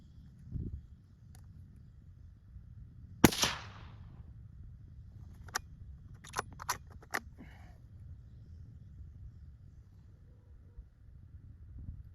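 A single sharp, loud crack from a Ruger American Gen II rifle in 6mm Creedmoor during sighting-in with V-Max ammunition, fading quickly, followed by a few faint clicks in a quiet outdoor setting.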